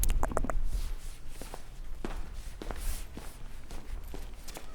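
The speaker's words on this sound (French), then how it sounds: "bien entendu, les bruits de pas." Footsteps on stone streets in the medieval town of Crémieu, a run of soft, distinct steps at close range that grow sparser and quieter, with no talking.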